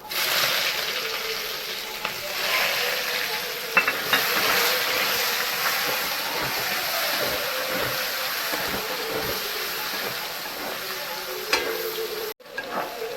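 Chopped onions frying in hot oil, a loud, dense, continuous sizzle with occasional stirring clinks, heard close up and uninterrupted by speech until an abrupt clatter near the end.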